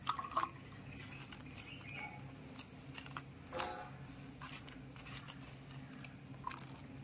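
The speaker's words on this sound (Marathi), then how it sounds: "इकडे आपण गरम पाणी घेतला, त्याच्यात आता हे सगळे काजी टाकून घेऊया" Fresh cashew nuts drop into a bowl of hot water in a home kitchen, giving a few soft plops and light clicks over a quiet low background hum.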